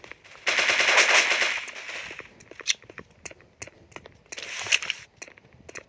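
Video game gunfire rattles out in a rapid automatic burst lasting over a second, followed by scattered single shots and clicks, then a second shorter burst, all loud and close.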